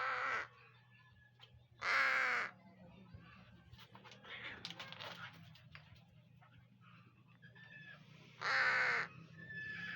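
Pet crow named Wakwak giving three loud, harsh caws spaced several seconds apart, close by, with soft indoor noises and quiet talk between the calls.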